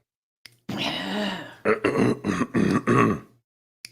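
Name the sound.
throat clearing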